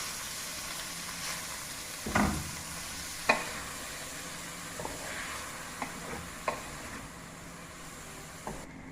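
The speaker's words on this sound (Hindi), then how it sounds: "अब इसमें कीमा शामिल कर दूँगी, इसको फ्राई करूँगी" Chicken mince fries in a pan with a faint, low sizzle, and a few sharp clinks and knocks from a utensil stand out against it. There is no talking.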